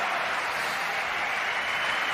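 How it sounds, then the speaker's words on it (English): A tennis crowd applauds a shot made at full speed on the run, a steady, even wash of clapping from a large audience, distant and moderately loud, with no talk over it. "He deserves that clap from Goran."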